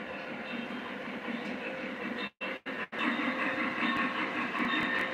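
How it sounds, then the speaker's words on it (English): An O scale NS Gen Set Switcher model locomotive, a Vision Line engine, runs steadily on the inner loop of a layout, giving a continuous close mechanical rolling hum with two brief dropouts midway. "I have the NS Gen Set Switcher on the inner loop"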